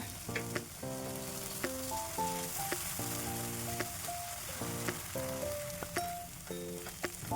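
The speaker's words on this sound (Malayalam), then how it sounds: "ഇനി ഇത് നല്ലതുപോലെ പച്ചമണം മാറുന്നവരെ ഒന്ന് വഴറ്റി കൊടുക്കാം" Masala for a restaurant-style masala fish fry sizzling as it is sautéed in a pan, a faint steady frying hiss with light stirring clicks under background music.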